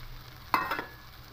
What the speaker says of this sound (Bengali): মশলাগুলো দিয়ে আরও একটু ভালো করে কষিয়ে নেব